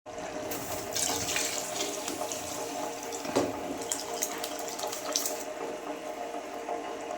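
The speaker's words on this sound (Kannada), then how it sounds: "2 ಲೋಟ ಅಕ್ಕಿಗೆ 4 ಲೋಟ ನೀರು ಹಾಕಿ ಅಕ್ಕಿನ ನೀಟಾಗಿ ತೊಳ್ಕೊಂಡು" Rice being rinsed in water for a simple pulao, steady running and sloshing water throughout with a few louder splashes and clinks, close by with no talk.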